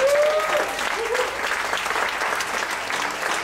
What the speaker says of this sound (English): Just a round of applause for betelNut